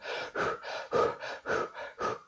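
A voice imitates rapid breathing with eight quick, evenly spaced huffing breaths in a steady rhythm, close and fairly soft, with no other sound.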